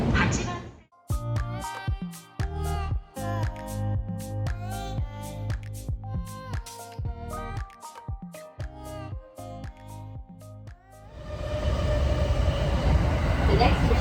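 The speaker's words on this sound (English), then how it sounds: "I'm on the right train now" A train rumbles along with rhythmic clatter, plus intermittent chimes and voices; the rumble swells loudly near the end.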